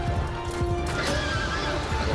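Horse neighing in the battle game Mount and Blade II: Bannerlord, a loud close whinny over scattered clip-clop of hooves and battle noise, lasting about two seconds.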